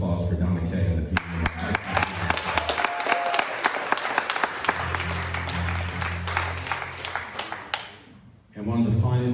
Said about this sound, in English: a nice round of applause for Donna Kay and the people